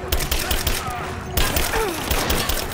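Rapid assault-rifle gunfire in the video game Rise of the Tomb Raider: dense, loud bursts of repeated shots crackle back to back through the whole stretch, with a brief lull partway before the firing resumes.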